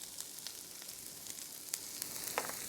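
Minced garlic sizzles and fries steadily in a pan, a soft continuous crackle with faint scattered pops, heard alone without talk.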